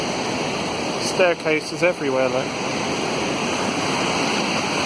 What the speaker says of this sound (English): And see that waterfall there.